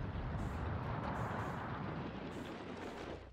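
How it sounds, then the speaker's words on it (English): The world explodes in the video game Outer Wilds, a dense, roaring rumble of broad noise that swells and slowly eases off, fairly faint with no clear separate impacts. "That's the sound of the world exploding"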